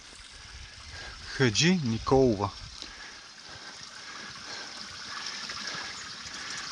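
Water runs from a roadside drinking fountain on a mountain path between Rila and the western Rhodopes, a soft, continuous trickling hiss with a voice speaking briefly over it.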